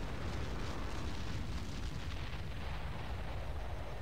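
A gun emplacement blows up in the strategy game Ground Control, heard as a faint, sustained rumbling roar of explosion noise with no distinct separate blasts.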